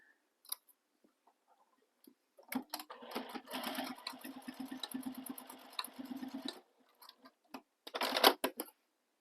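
A sewing machine bastes stocking fabric in a rapid stitching run of about four seconds, then a short second burst after a pause, set against near silence.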